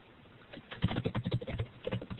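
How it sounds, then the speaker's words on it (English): Typing on a computer keyboard comes through someone's open microphone during an online class, a quick irregular patter of key clicks at moderate level with no talking. "We're hearing some typing."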